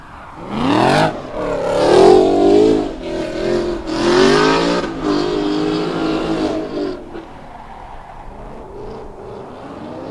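Nissan S13 drift cars at a drift championship final round scream past in tandem, loud engine revs rising and falling with tyre squeal, then fading away into quieter background.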